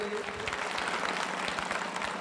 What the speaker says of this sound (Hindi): कृपया जोरदार तालियां